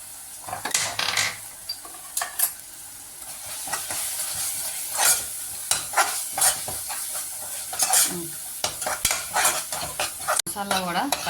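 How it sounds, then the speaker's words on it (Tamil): Spices and masala being sautéed in a pan for mushroom biryani, with a steady sizzle of frying broken by repeated scrapes and stirs of a spoon against the pan, close up and with no talking. "ஸோ இப்போ இது எல்லாத்தையும் சேர்த்து வதக்கி விட்டுக்கலாம்."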